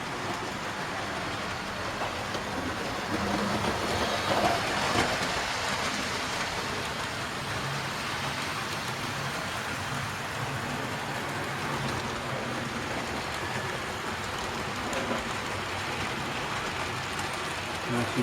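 A model railway oil tanker train running a lap of a loft layout, a steady near rumble and rolling hiss on the track that stays continuous and fairly loud throughout, with no clear talk.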